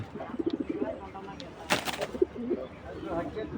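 Giribaz pigeons, a high-flying breed, give a few close, soft coos with a brief rustle of wings partway through, while someone talks over them.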